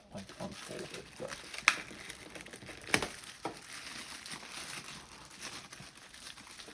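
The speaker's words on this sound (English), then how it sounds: "It's like this one I actually have to break the plastic on because it's not like unfolded." Plastic packaging being cracked and torn off a new Eufy 4G LTE Cam S330 solar-powered security camera, close crinkling and crumpling with two sharp snapping peaks amid steady rustle.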